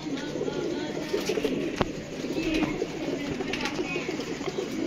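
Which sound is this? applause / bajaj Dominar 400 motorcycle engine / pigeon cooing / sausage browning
pigeon cooing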